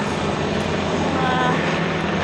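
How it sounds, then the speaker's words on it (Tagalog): A government helicopter flies low overhead in Hong Kong, a loud, steady engine roar filling the air, close and constant. "Helicopter ng gobyerno. Nag-iikot sila."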